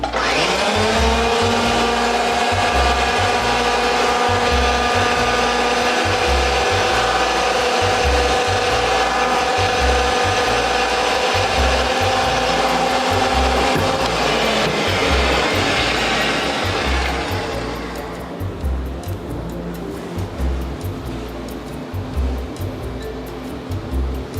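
A cutting wheel turns steadily through a 3-inch piece of steel pipe, giving a continuous loud grinding whir with a regular rhythmic clicking beneath. The cut ends near the end and the noise drops to a quieter mechanical hum.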